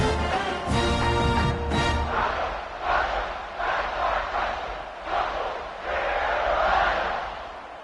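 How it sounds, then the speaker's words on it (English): A football stadium crowd roars and cheers after a touchdown drive, loud swelling waves of massed voices with a brief tonal burst near the start, rising and falling throughout. "this crowd is feeling themselves after that last drive"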